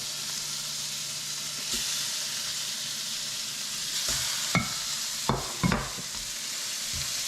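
Crappie fillets laid into a hot buttered skillet give a broad, steady sizzle throughout, with a few sharp knocks and pops near the end, close and fairly loud.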